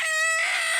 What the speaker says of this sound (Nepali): कुखुरा हो नि मान्छे